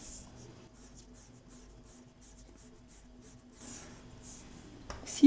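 A marker colors on paper in a series of short, soft, rhythmic scratchy strokes, close and quiet, ending with a sharper tap.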